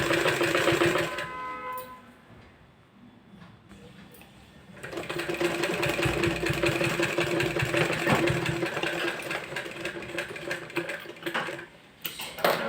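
Sewing machine stitching piping around a blouse neck, a close, steady whirring run that pauses briefly then resumes for a long continuous stretch with slight changes in speed.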